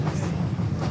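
A passenger train rolls steadily past at close range, its wagons rumbling with a low continuous roar and faint clickety-clack, loud and unbroken with no voices.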